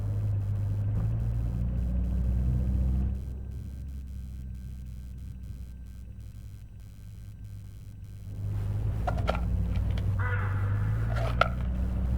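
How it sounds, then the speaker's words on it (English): Hooded crows cawing along a road in the mystery game Hitchhiker, a few harsh calls appearing mid-clip over a steady low engine rumble of the car. "Look, hooded crows all along this road."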